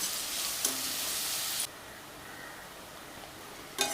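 Onions sauté in a pan for a prawn gravy with ridge gourd, a quiet, steady sizzle that grows brighter for the first second and a half, then drops to a fainter hiss with a few light clicks.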